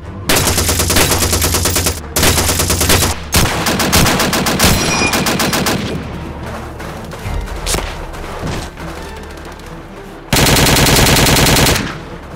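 Loud, sustained machine gun bursts from a World War II battle in LEGO stop-motion animation, with long rapid strings of fire broken by brief gaps and isolated booms.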